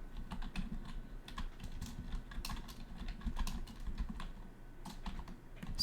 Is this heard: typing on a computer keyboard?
yes